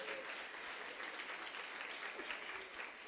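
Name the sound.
congregation applause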